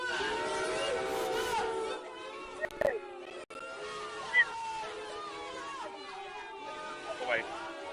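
A crowd at a live professional wrestling event reacts with a steady babble of cheers and chatter, with occasional louder shouts rising out of the hubbub.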